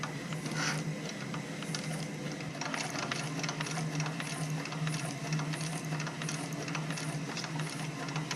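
Industrial sewing machine stitching leather held against a flip-down edge guide, a steady close whirring hum with fast repetitive needle clatter running continuously throughout.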